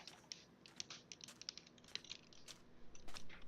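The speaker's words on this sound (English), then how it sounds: "Is my keyboard that loud? I feel like I'm barely touching it." Light tapping on a computer keyboard in a quiet room, a series of quick irregular clicks and small bursts of keystrokes, faint and close, with no talking.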